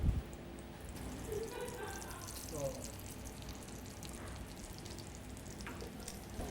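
A spiced red snapper fillet fries flesh side down in a pan, giving a soft, steady sizzle and faint spitting that hold at a low level.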